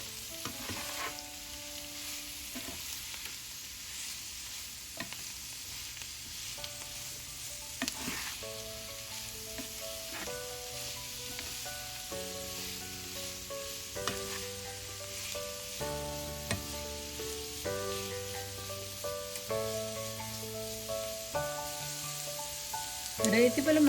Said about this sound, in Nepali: 1-2 मिनेट जति यसलाई यतिकै चलाउँदै पकाउनु पर्छ